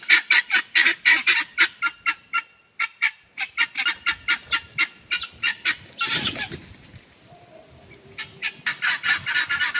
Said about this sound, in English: the guineas are telling me it's time to go